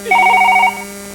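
A telephone ringing in a short burst of repeated electronic trills, loud and close, over a steady low hum, then cutting off.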